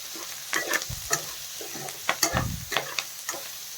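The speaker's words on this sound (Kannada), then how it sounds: "ಇದನ್ನು ಒಂದು ನಿಮಿಷ ಈ ಥರ ಸ್ವಲ್ಪ ಫ್ರೈ ಮಾಡಿಕೊಂಡು" Drumsticks frying in a pan and being stirred, with close, irregular scraping and clattering strokes over a steady oily sizzle, fairly loud.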